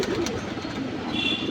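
A white Hungarian Budapest pigeon coos softly at close range in a loft, giving low, throaty cooing calls with a faint high background tone and no talking.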